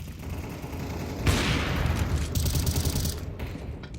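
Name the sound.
gunfire in the video game Counter-Strike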